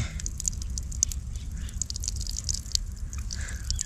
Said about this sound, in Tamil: உள்ளுக்கு பார்த்திங்கன்னா ஒவ்வொரு சொட்டாக விழுந்துக்கிட்டு இருக்குது மக்களே.